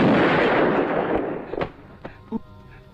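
Gunshot-like pops ring out in a 1992 Hong Kong action comedy, a few sharp reports after a loud noisy opening burst, spaced irregularly and fading toward the end.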